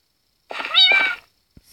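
A single loud, close cat meow from a kitten in a Minecraft-style video game, drawn out for under a second and heard alone with no talk over it.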